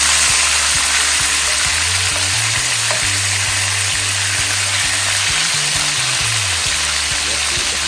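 Hot and spicy stew chicken fries in a pot with a loud, steady sizzle that runs throughout, broken by a few soft knocks and stirring sounds.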